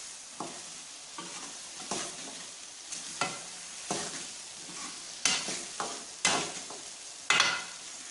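Ridge gourd and chicken pieces frying in a pan, a steady low sizzle broken by repeated scraping stirs of a spoon, with sharper clattering strokes toward the end.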